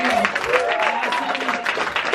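Theatre audience at a Las Locas comedy show at Steppenwolf Theatre gives a short burst of applause, fairly close and dense, with a voice talking over it.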